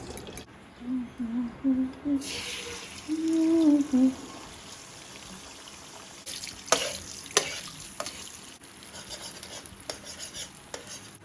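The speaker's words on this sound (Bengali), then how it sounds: "চুলায় ডিম নিলাম, ডিমটা একটু ফেটে দেবো" An egg is beaten in a pan on the stove with scraping, clinking strokes, then a soft sizzle and scattered utensil taps under faint background noise.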